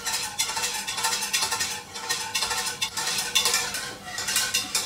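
A spoon stirs flour into white sauce in a pan for a fish bake, making a continuous scraping and swishing with rhythmic strokes. It is close and fairly loud, with no talk.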